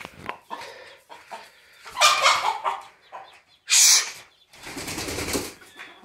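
Farmyard chickens clucking and squawking in bursts, with a sudden loud flurry of flapping wings partway through, fairly close and busy.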